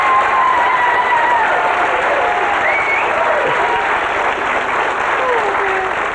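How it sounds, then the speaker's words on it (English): Loud, sustained applause from a TV game show studio audience during a 1989 episode of Catchphrase, a dense wash of clapping with a few voices and whoops rising above it throughout. "Ladies and gentlemen, give them a big round of applause."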